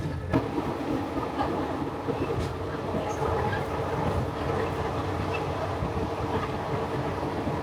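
A train in southern Thailand, running from Hat Yai toward Padang Besar on the Malaysian border, rumbles steadily along the rails, with a constant low roar and faint rhythmic clacking throughout.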